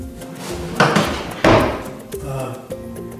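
Large, nearly two-foot-deep drawers on full-extension slides in an old workbench roll and thump shut, two firm knocks close together followed by lighter clicks and rattles, heard up close.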